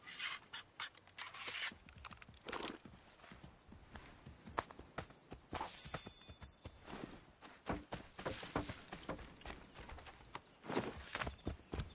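Horse hooves in the video game Assassin's Creed 3, a run of close, uneven clip-clop beats with scuffing and rubbing noise between them, fairly faint overall.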